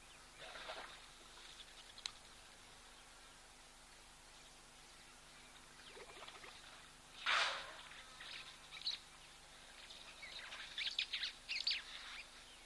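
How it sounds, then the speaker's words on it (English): Scattered wattled starling calls and chirps from the distance at a waterhole, faint and intermittent over a soft hiss of background noise, with a few sharper bursts near the end. "I would think that those are the starlings, the wattled starlings outside of breeding plumage."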